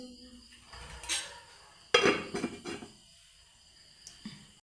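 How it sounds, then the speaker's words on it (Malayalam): A lid is set onto a cooking pot of pachadi with a few close metallic clanks and rattles, one sharp knock standing out, followed by quieter scraping and a last soft clink. "മൂടി വെച്ച് നമുക്ക് വേവിക്കാം."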